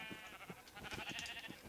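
Sheep in Minecraft bleat repeatedly in a busy, overlapping cluster of short wavering calls, fairly loud and close, with no talking over them.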